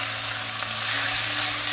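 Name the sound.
marinated meat slices frying in oil with garlic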